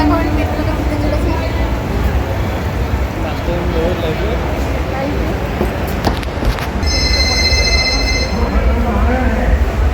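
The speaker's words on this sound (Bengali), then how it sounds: "আমরা এখন মেট্রোতে উঠতে চলেছি" A metro train rumbles in an underground station with a loud, continuous low roar, a brief clatter midway and a high tonal whine near the end, while people talk.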